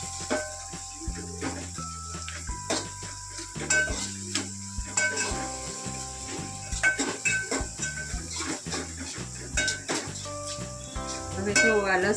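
A spoon stirs garlic chutney with red chilli through crumbled Kathiyawadi rotlo frying in a pan. There is rhythmic scraping and clinking over a light sizzle, close up, and a voice talks over it at times.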